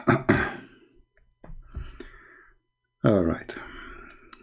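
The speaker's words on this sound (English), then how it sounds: "Sorry, guys, I'm coughing." A few short, harsh coughs burst out close by, separated by brief pauses, with a bit of speech mixed in.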